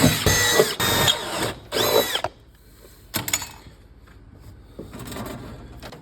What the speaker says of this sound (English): Then take a 1/4-inch drill.